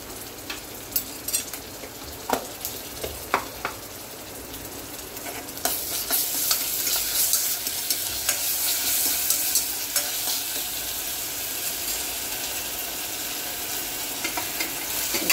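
Ginger garlic paste fries in a pan for a mushroom masala. It sizzles under a few spoon scrapes, then the crackle swells into a loud, steady hiss as it is stirred.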